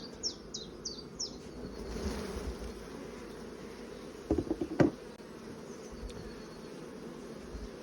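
Honey bees in the top super of a strong hive hum in a low, continuous drone, with a few louder close buzzes and chirping birds outdoors in the background.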